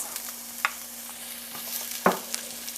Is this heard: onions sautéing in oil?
yes